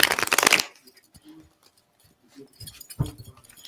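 Tarot cards are shuffled close by in two quick riffling bursts, one at the start and a shorter one near the end, with soft handling noises in the quiet between them.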